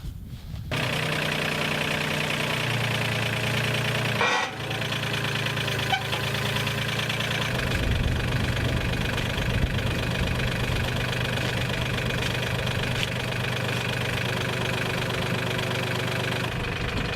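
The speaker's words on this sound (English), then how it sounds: "So I'm going to raise that up with the fork truck" A forklift engine idles close by with a low, knocking rumble, holding an even drone throughout apart from a brief dip midway.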